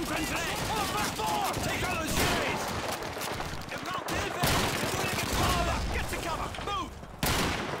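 Gunfire from the video game Call of Duty 2 rattles almost continuously as a dense battlefield fusillade, with scattered louder shots and voices shouting over the din.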